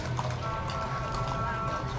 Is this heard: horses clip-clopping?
yes